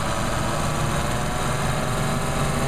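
A 1950s Mercedes-Benz 220 engine runs at high revs on a distributor test, producing a loud, steady, unbroken roar with no talk.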